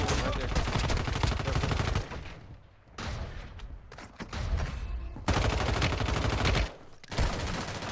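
Gunfire in the Warzone Mobile video game, with rapid bursts of shots close and loud, stopping briefly between volleys before resuming in dense, sustained clusters.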